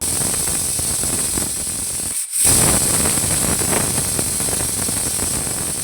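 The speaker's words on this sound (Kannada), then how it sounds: "ಈಗ ಇಟ್ ಕ್ಲೋಸ್ ಮಾಡಿ ಟೂ ವಿಷಲ್ ಕೂಗಿಸ್ಕೊತಾ ಇದ್ದೀನಿ" A pressure cooker of sprouted horse gram sambar vents a steady, loud hissing whistle that runs without a break, with a brief dip partway through before it resumes strongly.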